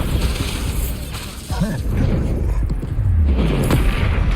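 A Bombarda spell blast in Hogwarts Legacy: a heavy boom within dense, continuous combat noise, while a voice calls out in the mix.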